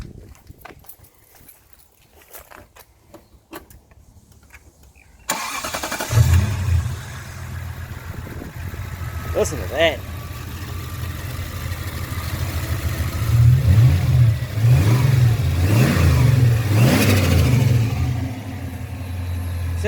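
A turbocharged Toyota 1UZ V8 in a Soarer cranks and catches after a quiet stretch, then settles into a deep, rumbling idle with rising revs. It sounds close, and a voice speaks briefly over it.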